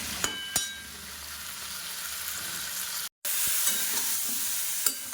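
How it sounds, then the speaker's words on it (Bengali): Ginger and cumin powder, then chili and coriander powder, fried in a pan with steady sizzling, a few spoon scrapes and clinks while stirring, and one brief dropout in the middle. "এই যে মশলা দিয়ে একটু ভাজা করছি একটু বেশ করে ভেজে নেবো"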